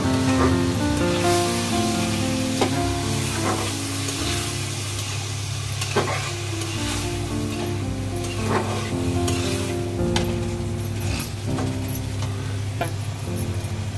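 A noodle soup mixture with peas being stirred in a hot pan, a continuous sizzle broken by repeated scraping and clinking strokes of a spoon against the metal, loud and close.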